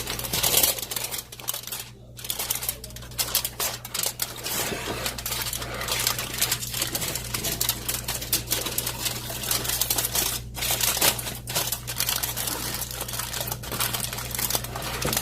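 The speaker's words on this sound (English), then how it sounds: "And then I go ahead, I cover it with the foil." Aluminium foil is pulled over a dish and crimped around the edges, a continuous close crinkling and rustling with sharp crackles throughout.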